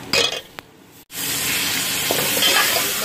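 Onions frying in a pan before minced meat is added: a few stirring clinks and a brief lull, then a loud, continuous close sizzle that holds to the end.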